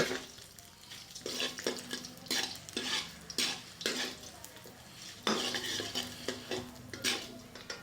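Chana dal fries lightly in a pan while a spoon stirs and scrapes in rhythmic strokes against the metal, over a soft, continuous sizzle close by.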